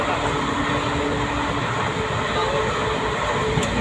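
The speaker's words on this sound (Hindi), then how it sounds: "इलाहाबाद का स्टेशन है ये" At Allahabad railway station a train rumbles in a steady, loud, continuous roar of rolling wagons and platform noise, with a faint horn-like tone near the end.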